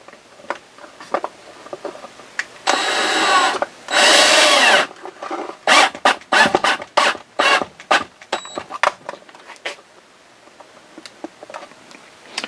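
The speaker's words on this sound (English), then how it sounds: "I'm just going to get some wood screws and actually screw it to this board" A power drill drives wood screws into a board, with two sustained whirring bursts followed by several quick stuttering pulses and clicks, close and fairly loud with some handling noise between.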